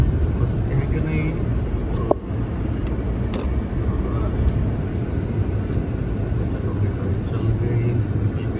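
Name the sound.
car driving through piled-up snow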